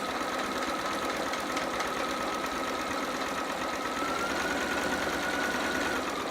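A domestic sewing machine stitches fabric down a romper leg in a steady, continuous mechanical whir at moderate level, with no talking.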